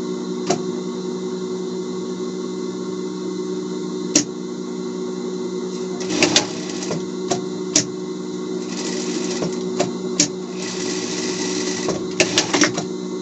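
A sewing machine stitches the shoulder seams of a Paw Patrol Chase costume, running as a steady close mechanical hum broken by sharp clicks and short bursts of faster stitching, with no talking.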